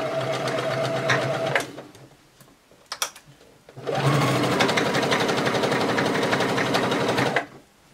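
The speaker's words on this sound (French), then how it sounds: "Et là, on va coudre toute cette partie" Sewing machine stitching fabric pieces of a child's Snow Queen (Elsa) costume apron, running in two steady bursts of fast mechanical rhythm with a brief pause between, close and fairly loud.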